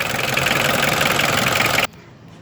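A diesel engine idles with a steady, loud mechanical rumble and clatter, running evenly for under two seconds before cutting off abruptly to near quiet.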